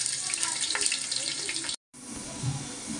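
Cloves and cinnamon pieces sizzle in hot oil in a wok, giving a steady frying hiss broken by a brief silent gap near the middle.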